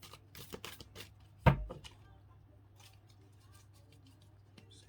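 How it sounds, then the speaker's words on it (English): Tarot cards being shuffled by hand, a soft papery riffle with a sharp slap near the middle and quieter rustling around it, close and fairly faint over a low background hum. "These cards are so difficult to shuffle."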